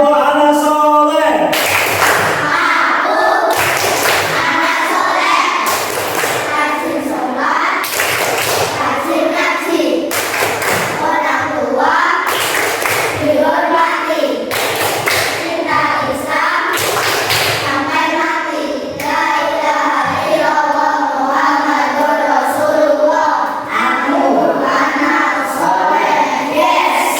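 A classroom of children performs the 'tepuk anak soleh' chant, loud rhythmic clapping in steady patterns mixed with many young voices chanting together throughout.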